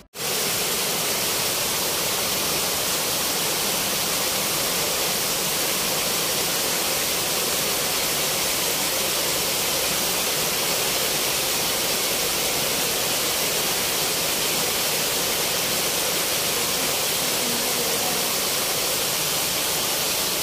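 The main waterfall at Jaydev Vatika park in Bhubaneswar, Odisha, roars as a steady, dense rush of falling water, loud and unbroken throughout with no voices.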